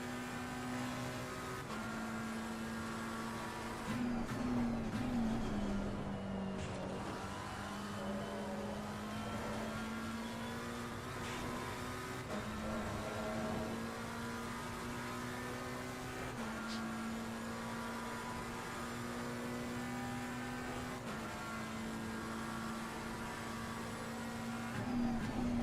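McLaren race car engine in Assetto Corsa Competizione, droning steadily at high revs with slight pitch shifts through gear changes, continuous and close throughout.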